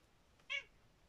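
A pet cat gives a single short, clear meow, close and fairly faint against a quiet room.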